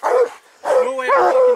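A dog on a spring brown bear hunt gives loud, close barks and yelps in two bursts separated by a short pause, with whining tones in the second burst.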